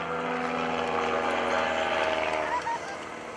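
Extreme Decathlon aerobatic airplane performing rolls at the Greenwood Lake Airport airshow, its propeller engine droning loud and steady with a slight pitch shift, under an outdoor crowd and announcer's talk.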